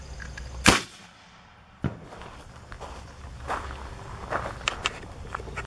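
Home-built 20 mm potato gun loaded with oxygen fires one sharp, loud bang near the start, followed by a smaller thud and scattered clicks and rustling at close range.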